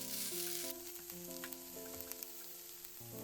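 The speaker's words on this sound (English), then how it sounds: "I stir fry it until it becomes tender." Udon noodles stir-fried in sesame oil in a pan for a Japanese bento, a soft, steady sizzle heard up close over a constant background hum, with a few light scraping stirs and no voices.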